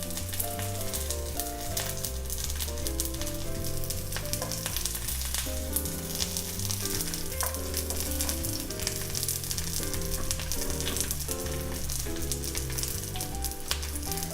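Steady sizzling of batter-coated scallions frying in oil in a pan for a Korean seafood pancake (haemul pajeon), with constant crackle under background music.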